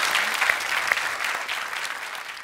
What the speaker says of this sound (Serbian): Eto, jedan aplauz za Natašu,